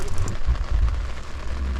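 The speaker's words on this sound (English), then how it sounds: "It's been raining." Rain patters steadily on water and a fishing boat during a catfish trip, a dense, continuous hiss of drops close by with no talking.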